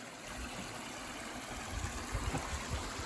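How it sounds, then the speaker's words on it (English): Water spilling over a waterfall into a backyard swim pond, a soft continuous rushing flow with some low rumbling bursts near the end, heard at moderate distance with no talking. "there's a waterfall right over there"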